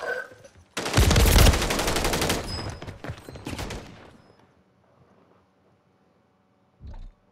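A 100-round gun fires in the Warzone video game: one loud, rapid automatic burst lasting about three seconds, which then tails off into near silence.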